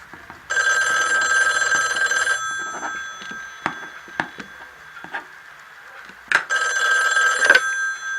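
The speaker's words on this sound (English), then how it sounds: "the 2 looming phone calls that would change everything." An old-style telephone bell rings in two loud, sustained bursts, separated by scattered knocks and taps.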